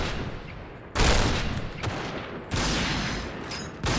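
Gunfire in the shooter game Point Blank: loud bursts of rapid automatic fire starting around one second and again past two and a half seconds, separated by quieter stretches, with no talking.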